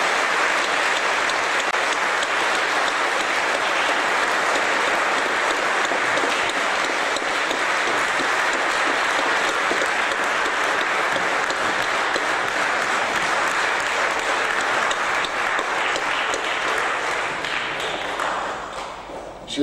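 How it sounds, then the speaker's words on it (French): A church audience applauds at length after an organ concert in a Protestant church, a loud, sustained wash of many hands clapping that holds steady for nearly twenty seconds before tapering off at the end. "crois qu'on peut encore le applaudir"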